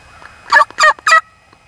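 Three loud, close gobbling calls from a bearded wild turkey hen in quick succession, with quiet surroundings before and after.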